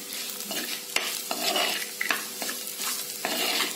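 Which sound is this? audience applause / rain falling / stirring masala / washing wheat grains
stirring masala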